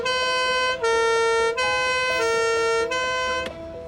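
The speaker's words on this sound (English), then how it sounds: "Do you want to put the sirens on?" Siren of a restored vintage fire truck sounding close and loud in a series of steady, harmonically rich tones that step between pitches, with brief gaps between blasts.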